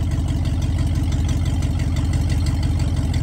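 A 1986 Ford F150 Bullnose pickup with a 302 cubic-inch 5.0 small-block V8 runs at a loud, steady idle with a deep, even low-frequency rumble throughout, up close and without any talk.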